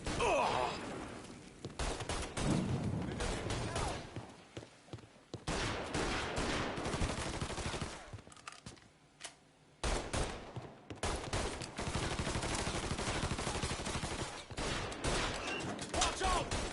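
Gunfire in the Mafia III video game: long stretches of loud, dense rapid shooting that break off twice briefly and then resume, with faint groans and sighs mixed in.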